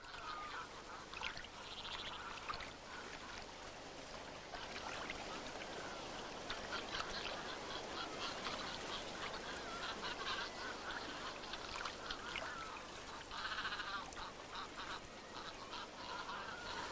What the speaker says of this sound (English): The young Socotra cormorants quarrel over the catch.